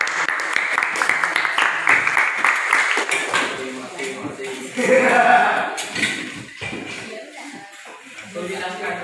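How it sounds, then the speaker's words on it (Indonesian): A room full of people claps for a presenting group at a class or seminar, a steady rattling round of applause with a voice speaking over it and chatter as it fades. "Silakan berikan aplaus untuk kelompok 3"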